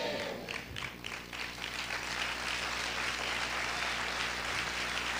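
A church congregation applauding, a sustained wash of many hands clapping that fills the room, fairly distant and even throughout with no clear speech on top.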